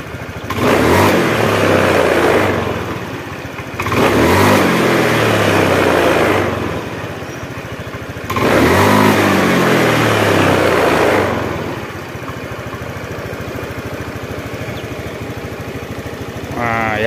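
A Honda Beat engine with sluggish acceleration revs hard in three rising bursts, each dropping back to a steady idle, then settles into a continuous close, even idle to the end.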